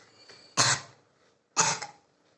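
A voice imitates a woman coughing, two short harsh coughs about a second apart, close and clear with silence between.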